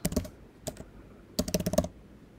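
Quick bursts of typing on a computer keyboard enter a spreadsheet name, with a short cluster of close keystrokes, a pause, one brief tap group, then another rapid run of clicks.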